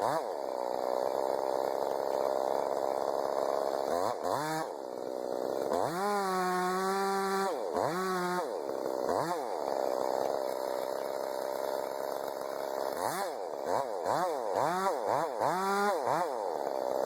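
Chainsaw felling a big tree, the saw running close and loud throughout with repeated revving surges as it bites into the trunk and then eases back.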